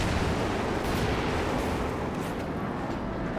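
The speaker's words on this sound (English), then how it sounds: "Brings the Panzer Artillery on top of the mortar emplacement, who has been braced." A Panzer artillery barrage in Company of Heroes 2 lands on a mortar emplacement, giving a dense, continuous roar of blasts and rumbling impacts with no break.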